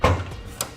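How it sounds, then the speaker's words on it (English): A car trunk lid unlatches with a soft thunk and swings open, followed by a brief second knock, close by and fairly quiet. "Now we'll open our trunk"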